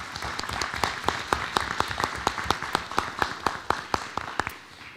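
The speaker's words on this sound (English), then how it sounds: "Let's give the NAACP a round of applause." Steady applause from a crowd at a school board meeting, a roomful of hands clapping at a moderate, even pace before gradually fading.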